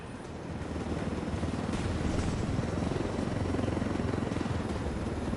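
A helicopter in flight, its rotor roar swelling in over the first half second and then holding loud and steady as a dense, continuous thrum with no speech.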